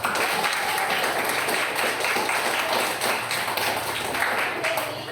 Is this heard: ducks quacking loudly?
no